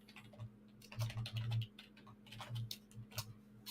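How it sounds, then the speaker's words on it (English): Quick bursts of computer keyboard typing, soft and close, clattering in uneven clusters with short pauses over a faint steady hum. "Typing too fast."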